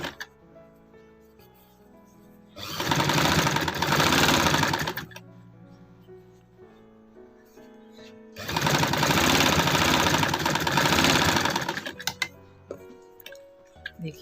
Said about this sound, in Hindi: इसको हम इसी तरह से सिलाई लगा लेंगे पहले।